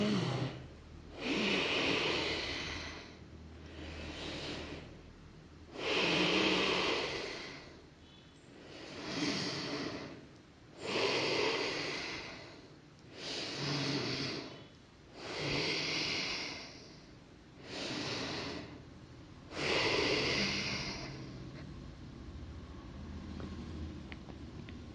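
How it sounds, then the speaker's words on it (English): Strong, deliberate breaths through the nose during a yoga session, about nine rhythmic inhale-exhale cycles, close and fairly loud with airy rushes separated by brief quiet gaps. "Strong inhales and exhales through your nose"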